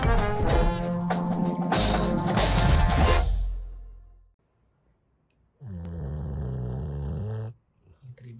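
Snoring from someone dozing off during a casual family interview at home, a steady rumbling stretch after some music, fairly loud and alone with no talk over it.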